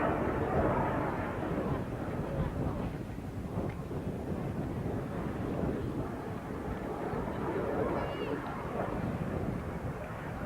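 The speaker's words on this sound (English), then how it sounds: "The Jet Provis 3A is the first jet aircraft flown by student pilots" A Jet Provost 3A jet trainer at the 1986 RAF Halton airshow produces a steady, windy roar throughout, with a voice commentating over it.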